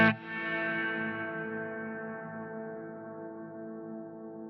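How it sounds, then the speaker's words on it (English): An electric guitar chord runs through the bloom reverb on a Line 6 Helix. One sharp strum is followed by a long, smooth tail that holds steady and fades slowly, heard alone. "the reverb doesn't come in right away, but it blooms in, or it rises in, it swells in"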